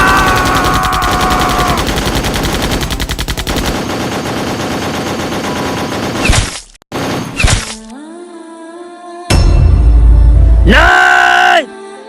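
Rapid bursts of automatic gunfire crackle loudly and continuously for several seconds, followed by sharp single shots and a loud blast, with shouting voices mixed in, in a short Indian Army film.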